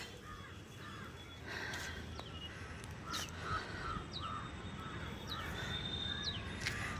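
Crows cawing in the evening, with several harsh caws scattered at moderate distance over steady outdoor background noise and no talking.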